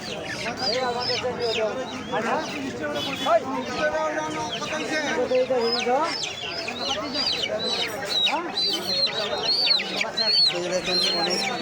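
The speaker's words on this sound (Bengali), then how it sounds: "হাঁস মুরগি মুরগি উঠে আছে" A busy, close chorus of ducks and chickens at a market, with overlapping clucks, quacks and squawks filling the air continuously.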